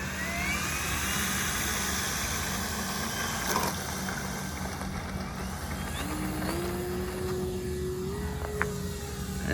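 An E-Flite Super Timber 1.7m RC airplane's electric motor whines steadily at part throttle, then climbs in pitch as power rises for takeoff, heard close over constant outdoor background noise.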